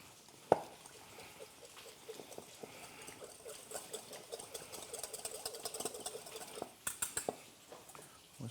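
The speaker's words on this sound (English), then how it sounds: "Whisk that up." A whisk beating champagne vinegar in a bowl for a duck salad dressing, a fast rhythmic patter of soft clicks and swishes that builds steadily, close and fairly quiet.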